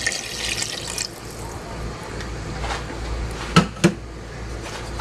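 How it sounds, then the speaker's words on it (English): Water is poured into a cooking pot of collard greens at medium heat, giving a steady, close splashing flow with a couple of sharp knocks near the end, and no talking. "Now we're going to add in our water."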